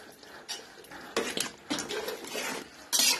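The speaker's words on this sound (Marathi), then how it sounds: "हे मिश्रण चांगलं हलवायचं" Vegetable mix curry (bhaji) being stirred in a pan, a spoon scraping and clattering against the metal in several irregular bursts, close and moderately loud.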